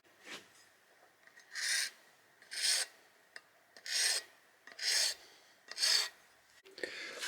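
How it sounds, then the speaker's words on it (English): Spaced strokes of 400 grit wet and dry sandpaper smoothing file marks on a Husqvarna combi fuel can spout, about six distinct close rasping passes with quiet gaps and small taps between. "Now I'm just cleaning up those file marks with a bit of 400 grit wet and dry"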